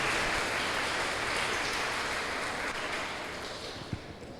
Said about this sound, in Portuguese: Nós queremos acolhê-las também com uma calorosa salva de palmas.